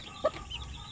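A native hen gives a single short, soft cluck near her chicks, faint and brief against quiet background noise.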